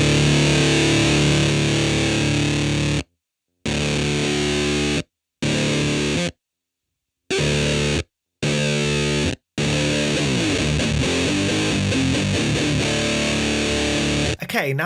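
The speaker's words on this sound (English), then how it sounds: "The final solution is to raise both the compression and the gate, but this will likely affect your fuzz tone heavily" An electric guitar through a DemonFX Fuzz Works 7 fuzz pedal with compression and gate raised plays loud, thick distorted chords and notes, cut off abruptly by the gate into several hard silences between bursts.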